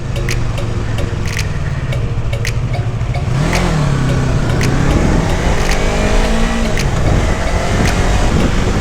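A motorcycle engine runs steadily while riding on local roads, a loud continuous drone with some rising and falling revs and wind noise, no talk over it.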